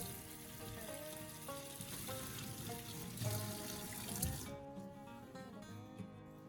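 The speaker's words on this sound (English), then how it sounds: "rinse everything again under running water to remove all remaining baking soda and dirt" Tap water runs and splashes while fruit, oranges and lemons, is rinsed under the faucet in a kitchen, a steady close hiss with clinks and a brief louder splash midway.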